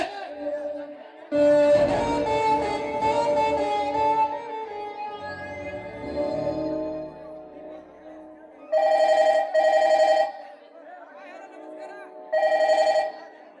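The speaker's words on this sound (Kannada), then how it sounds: "ಕರಿಯ ತಗೊಂಬಾಲೆ ಮಗನ ಫೋನ್." A telephone rings in bursts of a bright electronic ringtone, loud and close, returning several times with short pauses between, while a voice talks over the first part.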